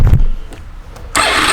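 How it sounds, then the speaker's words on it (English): A 1998 Suzuki Marauder 800 motorcycle engine cranks briefly, then catches, starting with a sudden loud, steady bright roar close by after a short quieter stretch. "Let's fire this beast up."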